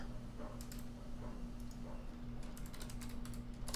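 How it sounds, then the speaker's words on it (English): Quick, steady clicking of fingers typing on a new computer keyboard, close and continuous, with a constant low electrical hum underneath. "I wonder if I type faster on this keyboard"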